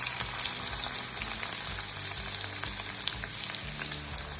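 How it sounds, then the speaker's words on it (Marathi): Finely chopped onion frying in hot oil in a pan for dhaba-style paneer bhurji, a steady, close sizzle with faint stirring and no talk. "त्यानंतर यामध्ये मी हा बारीक चिरलेला कांदा टाकून घ्यायचा।"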